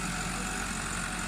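New Holland 3630 and Sawraj 855 tractors idle side by side outdoors, a steady dense diesel rumble filling the whole moment without pause or change.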